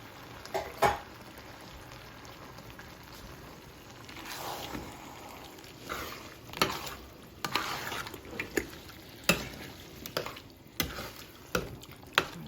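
Tomato sauce simmering in a pot and stirred with a spoon, soft bubbling with irregular scraping and clinking strokes against the pot, close and fairly quiet, no talking.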